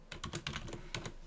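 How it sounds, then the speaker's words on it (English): Fingers tap out a quick, irregular run of keystrokes on a computer keyboard, close and clear, with brief pauses between short bursts and no talking. "type in our domain name, username with the domain at the beginning, and our password"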